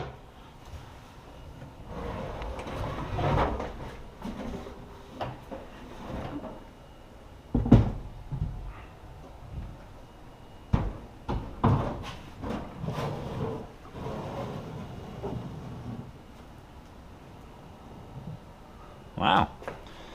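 Rollout drawer on a DIY tool bench toolbox sliding open and shut, giving several rattling rolls and knocking thumps at close range, with scattered bumps in between and a sharper clunk near the end.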